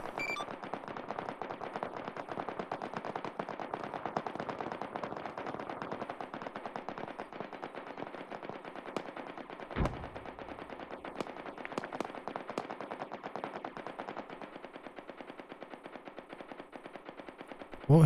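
Sustained automatic machine gun fire rattles in a PC military co-op game set in 1984, long continuous bursts with a brief pause and sharper nearby shots, heard alone at moderate loudness.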